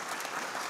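Indoor audience at an LDII national meeting applauding, a dense, steady wash of many hands clapping, moderately distant and unbroken throughout the brief moment.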